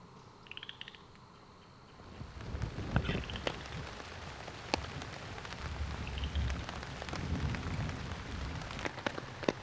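Rain falls in Kentucky woods, starting light and soft, then thickening into a steady patter of drops with sharper nearby taps on leaves or a tree umbrella, fairly quiet overall.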